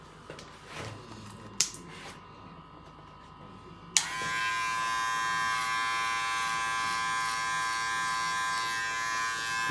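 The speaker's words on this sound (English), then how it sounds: "I'm now going to put the grade 1" Electric hair clippers fitted with a grade 1 guard buzz loudly and steadily once they switch on with a sharp click partway through. Before that, a few quieter handling sounds come through, and the bright, even motor whine continues to the end.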